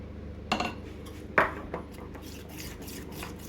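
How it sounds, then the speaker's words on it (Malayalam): Marble cake batter, plain mixture combined with chocolate mix, being stirred in a bowl: two distinct clinks of the utensil against the bowl, then softer scraping and rubbing, close and quiet. "ഇതുപോലെ നന്നായിട്ടൊന്ന് മിക്സ് ചെയ്യുക"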